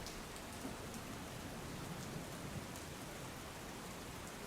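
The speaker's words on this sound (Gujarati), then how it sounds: "ઉપલેટા શહેર અને ગ્રામ્ય પંથકમાં વરસાદી માહોલ જોવા મળી રહ્યો છે" Steady rain falls over the town and countryside of Upleta in Rajkot district, a dense, continuous hiss of drops hitting surfaces with no voices.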